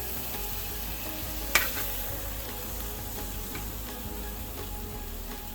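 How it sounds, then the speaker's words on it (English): Cheap steak searing in a hot pan over medium-high heat for fajitas, a constant dense sizzle and crackle with one sharp click early on, close and steady. "And you just keep going until you got a nice sear on everything."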